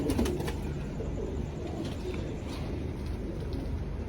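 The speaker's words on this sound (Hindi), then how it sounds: "ये कौन से कबूतर हैं?" Soft, low cooing from several old Indian-breed pigeons in a loft murmurs continuously against a rustling background, close by and steady.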